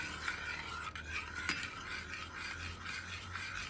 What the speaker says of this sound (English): And I'm just stirring it, and it'll gradually get thicker and thicker.